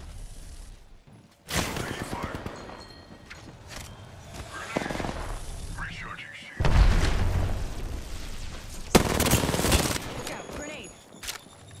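A grenade blast and bursts of gunfire ring out in a round of Apex Legends arena mode, loud booms and rapid volleys erupting in separate bursts with quieter gaps between them.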